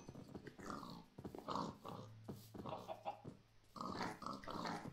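Grunting, snorting pigs behind a fence in the video game Minecraft, several short oinks and snorts in irregular bursts, close and fairly loud with no talk.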